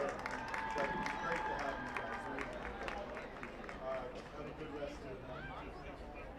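A crowd at a high school football game claps and cheers in a dense, continuous wash of applause, fairly distant, with scattered voices mixed into the noise.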